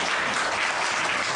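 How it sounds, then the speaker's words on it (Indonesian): Audience applause from a seated crowd at a talk, dense steady clapping throughout, fairly loud and close with no voices over it. "Tepuk tangan."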